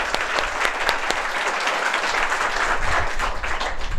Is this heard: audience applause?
yes